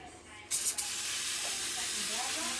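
Spray bottle misting onto a bass fillet before cooking, a sudden loud hiss of short spurts followed by a continuous broad hissing sizzle, with a faint voice briefly under it.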